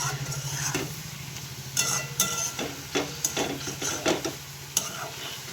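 Spices being stir-fried in a pan with very little oil, heard as a steady low sizzle broken by repeated sharp scrapes and clinks of a spatula against the pan, close and fairly loud.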